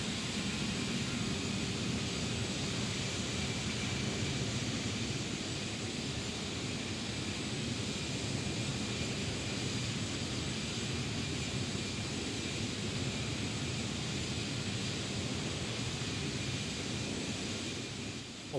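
Exterior engine roar of an Airbus A319 in the X-Plane 12 flight simulator during cruise, a steady broadband jet rush that stays even throughout with no voices.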